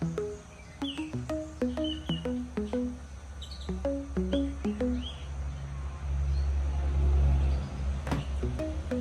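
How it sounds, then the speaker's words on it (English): A Common Myna in Sri Lanka calls in a run of quick varied whistles and chirps, loud and close, over a low rumble of passing traffic that swells midway. "It's called the Common Myna in Sri Lanka."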